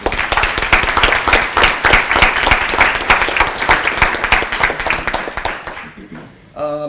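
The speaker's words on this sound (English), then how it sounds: "I'd like to ask you to join me in thanking the Karesh family with a round of applause" A roomful of people claps loudly and briskly for several seconds, then the applause dies away and a voice begins speaking.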